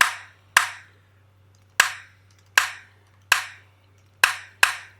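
A clap drum sample used in music production repeats in sharp, crisp hits, seven in all at uneven spacing, each with a short tail, over a faint low hum.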